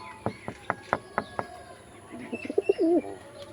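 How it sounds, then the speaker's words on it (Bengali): A run of sharp, evenly spaced finger snaps, followed by a pigeon's soft, warbling coo close by, answering the snaps. "সেই ফ্রেন্ডলি পায়রা, অ্যাগ্রেসিভ দেখো, ডাকছে শুধু আমার তুড়িতে"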